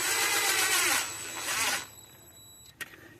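A power tool drives screws down on the distributor of a TBI 350 engine, whirring in two short close bursts before stopping, followed by a single faint click.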